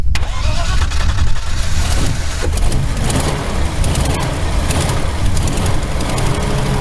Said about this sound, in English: You want to fire him up again? And I'll do the throttle here.